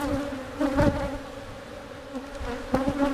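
Honey bees in a weak hive buzz steadily during an inspection, a close, droning hum with a few louder swells as individual bees pass near.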